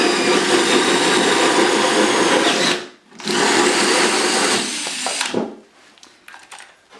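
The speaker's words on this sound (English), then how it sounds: "drill the rest from this side" Power drill boring through wood for a DIY beehive nuc box, a loud steady whine in two long runs with a brief pause between them, then winding down into scattered handling clatter.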